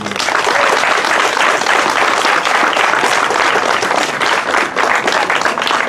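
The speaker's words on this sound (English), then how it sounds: "So here's a round of applause for all of you." An audience at a Habitat for Humanity house dedication on Cobb Street claps loudly and continuously throughout, a thick, sustained wash of applause with no clear voices on top.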